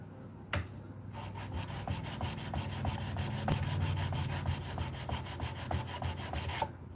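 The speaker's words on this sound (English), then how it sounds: "this is my final sanding process on it" Rhythmic close-up rubbing of 180-grit sandpaper across a heat-treated wooden piece during final sanding, steady repeated strokes starting after a sharp knock, with no talking.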